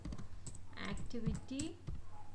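Typing on a computer keyboard, a quick run of close, light key clicks over about two seconds, partly under a voice speaking.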